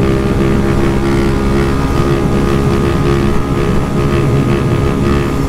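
A Honda Start 160 motorcycle fitted with a sport exhaust rides along, its engine droning loud and steady throughout with a dense, rough tone and no talk over it.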